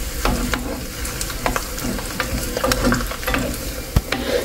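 Dry red chilies, mustard seeds, chana dal and urad dal temper in hot oil for old tamarind pickle, a steady close sizzle with scattered sharp pops and crackles and light stirring scrapes.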